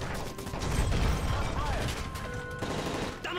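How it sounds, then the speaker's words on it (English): Gunfire during a plane hijacking in the video game Call of Duty MW3, a dense clattering burst of automatic fire and mechanical rattling filling the whole stretch at steady loudness, with faint voices underneath. "That's gunfire! Hijackers are taking the plane!"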